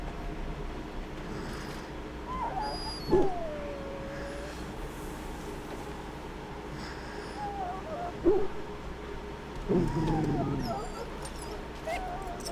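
An injured dog in a pen whimpers faintly, a few brief high whines spread out over a low steady background hum, with speech in between.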